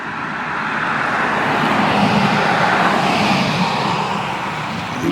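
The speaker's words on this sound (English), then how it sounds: "Let these cars go by" Cars pass along a road beside someone riding a Windone E2 fat-tire electric bike: a steady, loud roar of passing traffic that swells gently and then eases, with no talking.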